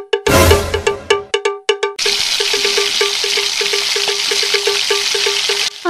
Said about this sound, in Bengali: আমার মাছগুলো সব ভাজা হয়ে গিয়েছে